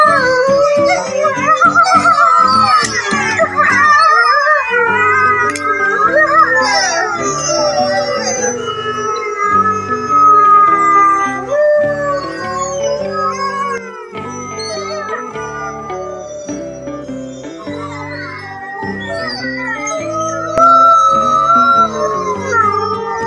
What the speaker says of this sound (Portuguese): Uivos, sons e barulhos feitos por lobos.